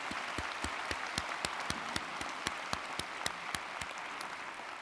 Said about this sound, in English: Please join me in a round of applause for our Chancellor.